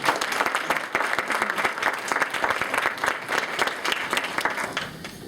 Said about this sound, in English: let's give one more round of applause to the core team